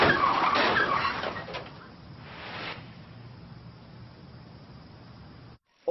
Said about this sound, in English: she immediately hits a wall, then gives the car gas